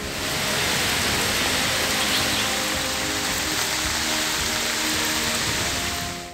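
Heavy rain in Ramanagara, Karnataka, falls in a dense, steady hiss that fades in quickly and holds loud and unbroken throughout, with no voices.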